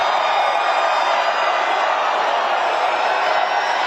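A large rally crowd in Richmond, Virginia roars and cheers in a dense, steady wash of noise that stays loud and unbroken throughout.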